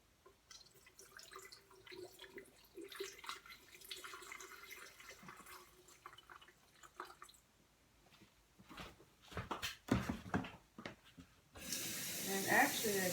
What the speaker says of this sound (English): Pour the water in here.